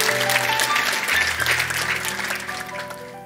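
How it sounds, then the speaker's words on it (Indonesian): Congregation at a Christian fasting prayer service applauding steadily for several seconds, a dense wash of hand claps with faint organ or keyboard tones sustained underneath. "Anda boleh tepuk tangan."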